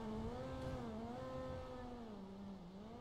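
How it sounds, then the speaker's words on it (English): Loud car engine droning and shifting in pitch as it revs up and down, heard steadily close by with no voices. "No, my car is loud as fuck."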